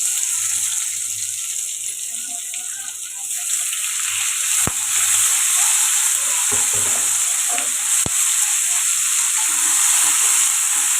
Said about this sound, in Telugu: ఇప్పుడు అదే ఆయిల్లోని ఆనియన్స్ టమాటో ఫ్రై చేసుకోండి